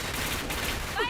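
Gunfire in a mobile shooter game crackles as a quick burst of shots, close and sharp, ending in a brief ringing tone.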